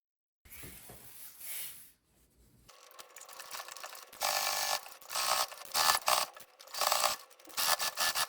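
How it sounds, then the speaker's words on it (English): A sewing machine stitches fabric up close, starting after a soft rubbing of cloth and a brief pause, then running in loud, rapid mechanical bursts with short stops between runs. "Now I start sewing."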